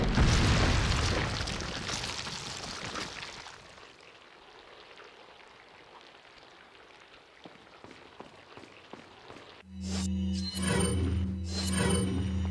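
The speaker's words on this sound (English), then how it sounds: "then we finish off Salazar with a rocket launcher" A rocket launcher blast hits Salazar in Resident Evil 4. A loud, rumbling explosion opens and decays over several seconds into quieter debris and ambience, before a sharp burst of game effects returns near the end.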